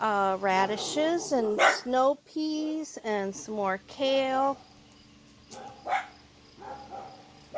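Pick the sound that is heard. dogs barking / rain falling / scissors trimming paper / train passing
dogs barking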